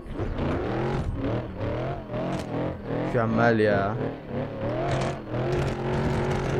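A BMW E36 engine in the game Assetto Corsa hums and revs steadily while drifting on a snowy road, its pitch rising and falling with shifts, while someone speaks briefly over it.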